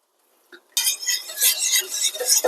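A whisk works butter into a pan sauce for lamb chops over lowered heat, a quick clink followed by steady, close, bright metallic scraping and swishing that runs continuously and fairly loud.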